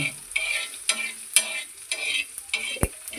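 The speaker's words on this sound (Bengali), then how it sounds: "শুকনো কড়াইতে ভেজে নিচ্ছি" Whole cumin, fennel, coriander and black pepper dry-roast in a wok, a spatula scraping and tossing them in quick, rhythmic strokes about every half second, with a light crackle, close and without speech.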